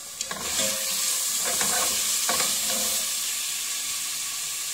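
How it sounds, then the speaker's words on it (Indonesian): Oil sizzles steadily as blended garlic and shallots are stirred in a pan for pizza sauce, with a few scraping stirs standing out from the continuous frying hiss. "Kita tumis."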